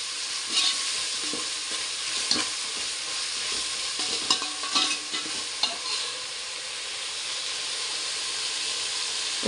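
Ginger garlic paste being stirred in a hot pan while cooking upma for breakfast, with a steady frying sizzle and hiss, scraping spoon strokes at irregular intervals, close and moderately loud, no talking.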